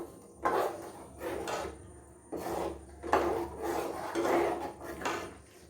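Thick ragi kali dough is stirred in a pan on a slow flame, producing close, rhythmic scraping and rubbing strokes in uneven bursts with short pauses between them and no talk.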